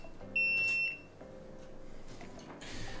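A multimeter gives a single short, thin electronic beep that stands out clearly over quiet room noise and faint handling sounds on an electronics bench.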